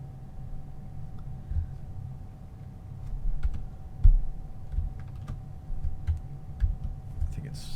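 Computer keyboard keys tapped during a Star Citizen game session, a string of soft, irregular clicks close by with a few firmer presses, set against a low steady hum.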